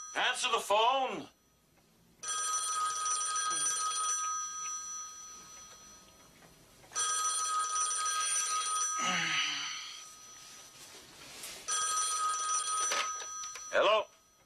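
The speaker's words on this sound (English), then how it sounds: "Terry, answer the phone." A telephone bell rings in three long bursts several seconds apart, loud and close, with brief voices before and after the rings.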